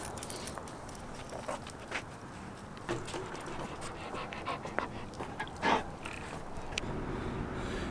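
A dog pants steadily and close by in an outdoor setting, quick rhythmic breaths running throughout, with a few scattered clicks and light footstep-like knocks but no talking.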